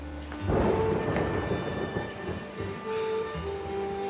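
A loud, rolling rumble of thunder swells and grumbles for several seconds, deep and booming, with no voices.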